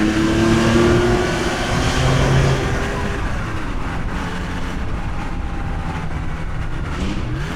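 An air-cooled Porsche 911 Targa's engine revs on the move, a loud steady drone with rising and falling pitch shifts throughout, close by and alone.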